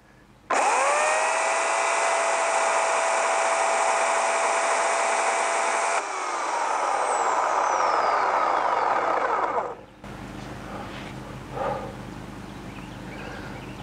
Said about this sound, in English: I'll run the saw, pull the sharpening lever back.